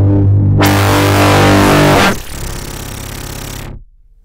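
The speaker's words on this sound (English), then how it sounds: "patch over from the scope, again that blue trace is the tube output, into the filter, and use this to create lots of distortion" Heavy buzzing distortion from a Eurorack tube filter patch built around Metasonix RK-2 VCA and RK-3 Ringer modules, starting loud and thick, then thinning to a rougher, quieter rasp before cutting off abruptly.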